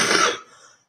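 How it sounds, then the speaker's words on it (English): A single harsh cough burst, close and loud, fading quickly into a faint breathy tail. "I'm sick of coughing."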